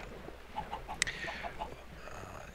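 Chickens cluck in short, soft, spaced calls on a farm in the video game Minecraft, with a brief sharper squawk midway, all fairly faint and with no talking.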